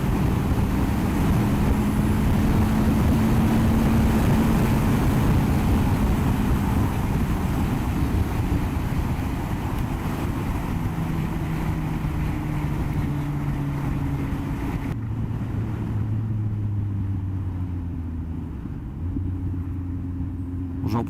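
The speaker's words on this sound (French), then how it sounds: "J'en profite pour faire 2-3 petites accélérations pour voir un peu la sensibilité au niveau du vent du micro" Motorcycle engine revving through a few short accelerations, heard from a helmet microphone with steady, loud wind rush over the whole ride, the engine pitch rising and falling beneath the roar.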